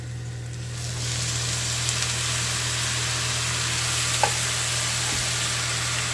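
Keema frying in a pan erupts into a loud, steady sizzle once water is added, a broad hiss that holds for several seconds with a faint clink or two and no talking.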